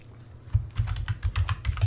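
Quick typing on a computer keyboard, a close run of light clicking keystrokes that begins after a brief quiet moment and patters on in an uneven rhythm, with no speech.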